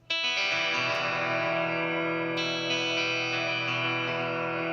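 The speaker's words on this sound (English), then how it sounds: "I'm just dragging from the highest string to the lowest string and very close to the bridge to give it a real bright percussive sound." A guitar chord rings out bright and full, the pick dragged across the strings from highest to lowest near the bridge, colored by distortion and a chorus-like shimmer, then sustaining loudly with no voices.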